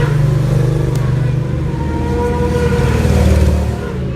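Race motorbikes on wet tyres roar past at Brands Hatch on a drying track, loud close engine noise rising and falling as they go by, with faint voices mixed in.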